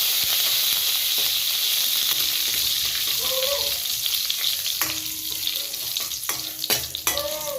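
Curry leaves crackle and sizzle in hot oil in a pan with shallots and cumin for a fish curry, a steady close hiss with stirring scrapes and a few sharper pops near the end.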